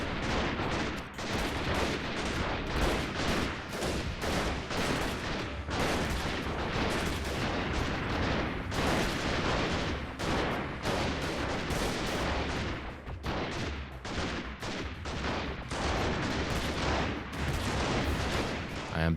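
Sustained gunfire and explosions in the PC game Freeman: Guerrilla Warfare, dense overlapping shots and bursts continuing loud and unbroken throughout, with no talk.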